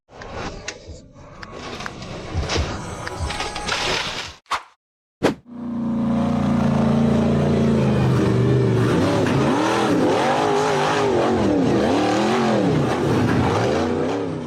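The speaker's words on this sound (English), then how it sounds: "The buggy accelerated up the steep, rocky slope" An off-road 4x4 buggy's engine roars and revs hard as it climbs a steep rocky slope, loud and close, with rising and falling surges following a few seconds of rough clattering and a brief silent gap.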